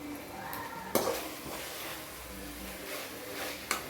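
Kashmiri red chili powder masala fries quietly in a pan for chicken fried rice, a soft, continuous sizzle broken by two sharp utensil clinks against the pan.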